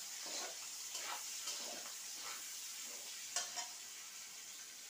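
Chopped onions frying in oil with bay leaf, cinnamon and cardamom for a potol dhoi kurma, a soft even sizzle with faint periodic stirring scrapes, quiet and continuous throughout without speech.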